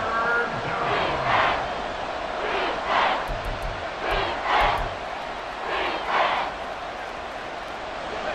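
Stadium crowd noise in a Madden NFL football video game, a broad sustained roar that swells in several waves across the stretch, with a game commentator's voice running over it.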